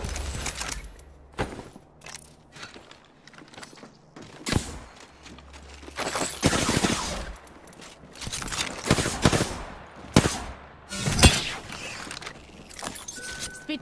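A Spitfire machine gun in the video game Apex Legends fires in loud, rapid bursts, mixed with mechanical clicks and reload-like rattles, with pauses between bursts.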